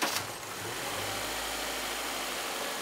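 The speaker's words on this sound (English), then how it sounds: "we're going to start the car" A car engine idles steadily after starting during an alternator check, a low continuous hum that stays even throughout with no talk over it.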